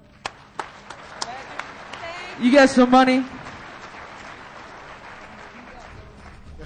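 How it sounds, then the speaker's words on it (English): Conference audience at a hacking convention gives a short burst of applause, loud but lasting barely a second, after scattered claps and a brief spoken line. "So give a round of applause."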